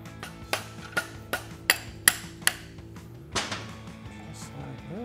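A hammer strikes a punch to drive a bearing assembly out of a Can-Am Maverick R rack, giving seven or eight sharp metallic blows at an uneven rhythm, close and clear, with no talking.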